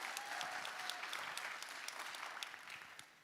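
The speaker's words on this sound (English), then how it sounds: "I'd like a round of applause for that." Audience at a community meeting in Wheeling breaks into sustained applause, a dense crackle of many hands with sharper individual claps standing out, slowly tapering toward the end.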